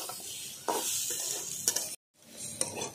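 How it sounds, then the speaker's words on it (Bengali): Taro pieces sautéing with spices in a pan, a close, steady sizzle with brief stirring scrapes and one short pause before it resumes. "ভালো করে আমি মশলার সঙ্গে কষিয়ে নিচ্ছি কচুগুলোকে।"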